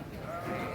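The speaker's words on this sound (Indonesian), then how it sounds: "Ini domba-domba." Sheep bleating at a sheep and goat livestock contest, a sustained bleat rising above a busy, noisy crowd background with faint talk nearby.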